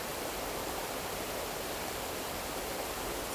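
A river flows steadily nearby, a dense, even rush of moving water with no breaks, heard alone and fairly soft.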